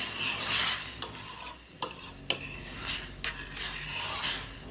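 A metal spoon stirs rice in a hot pot on the stove, giving repeated scraping swishes, sharp clinks against the pot and a faint sizzle underneath, close up with no talk.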